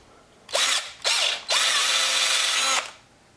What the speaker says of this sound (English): You're going to put that right in their helmet and just drill it.